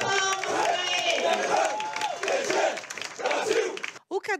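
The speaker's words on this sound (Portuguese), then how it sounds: "Uma salva de palmas para ele!" A crowd along an avenue at a September 7 Independence Day parade in Londrina cheers and shouts with applause, voices rising and falling in a loud mix, with speech over it and a brief drop near the end.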